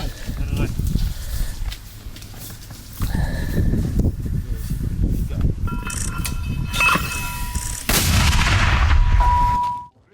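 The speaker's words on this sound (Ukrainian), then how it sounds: "українські мінометники під Бахмутом б'ють по ворогу" Ukrainian mortar fire near Bakhmut: heavy booming blasts and rumbling impacts mixed with shouted voices and movement, ending in a loud burst that cuts off.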